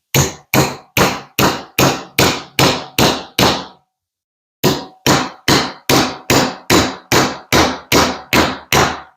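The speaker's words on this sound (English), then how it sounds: "it's best to take it slow and just nice and gentle taps with a hammer" Gentle hammer taps straightening a bent metal part during restoration metalforming, about sixteen crisp, evenly spaced strikes close up, with a short pause partway through.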